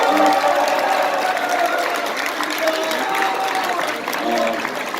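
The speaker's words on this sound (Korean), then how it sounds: "큰 박수 부탁드립니다" Applause and crowd noise from an audience at a public hearing on the May 18 (5.18) events in a press center hall, a dense steady patter filling the room with voices mixed in.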